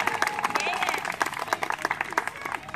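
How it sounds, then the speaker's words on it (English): A small group applauds a youth baseball team after its first game outdoors: scattered, close hand claps that start dense and thin into separate claps, with people talking over them. "Give them a round of applause."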